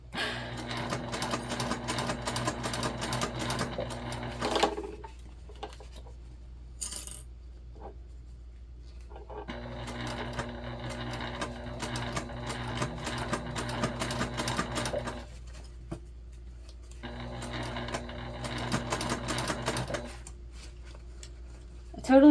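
Sewing machine basting stitches along a zipper panel on a Lindsport Mini Backpack, running in three sustained bursts with short pauses between, close and steady with a mechanical hum and rapid needle rhythm.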